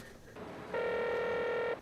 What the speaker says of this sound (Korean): 동수가 전화를 받지 않자 찾아온 지영